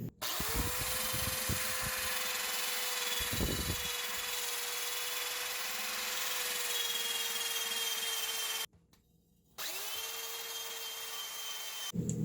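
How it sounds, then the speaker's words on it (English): A power drill whirs steadily for several seconds as a wire brush grinds and scrubs against a cast iron pan, pausing briefly before spinning up again. "take the drill and the wire brush and start working on it"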